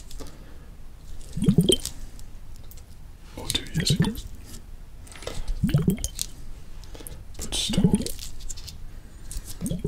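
Squishy, water-filled ASMR trigger objects being pressed and squeezed, giving four soft wet squelching bursts at a steady pace, close up, with a person talking quietly in between.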